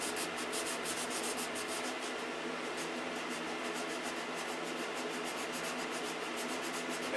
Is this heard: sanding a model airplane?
yes